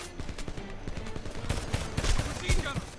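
Rapid machine gun fire in the video game Homefront, a dense stream of close shots with heavier booming hits near the end, mixed with other battle noise.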